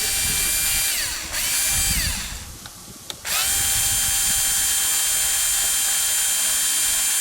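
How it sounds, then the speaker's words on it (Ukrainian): An electric screwdriver unscrews bolts on an Oleo-Mac PW 110 C pressure washer under repair, a loud close whining motor that winds down, pauses briefly, then spins up again and runs steadily. "Зараз візьму електричну викрутку, так буде швидше розбирати"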